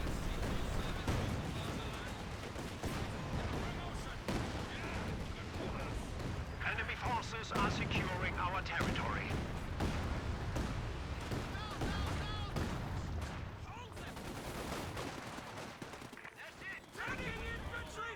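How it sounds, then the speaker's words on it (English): A Land Mattress rocket artillery barrage in a Company of Heroes 2 match, a dense continuous rumble of rapid booming impacts and crackling blasts rolling on steadily throughout, loud and layered with game battle noise. "I hear a land mattress barrage going straight for this MG42"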